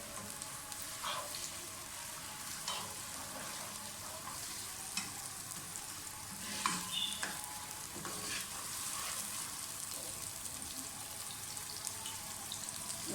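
Chopped onions frying in a pan for an aloo chicken shorba, a steady close sizzle with scattered scraping stir clicks running throughout, no voices.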